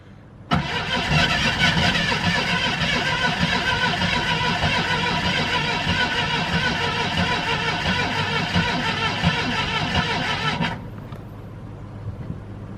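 A Jeep Cherokee Pioneer left sitting for 24 years cranks continuously with a loud, steady whirring starter for about ten seconds, then cuts off, leaving a low hum and no sign of the engine catching.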